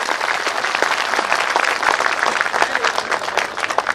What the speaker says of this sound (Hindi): एक बार जोरदार ताली अपने लिए।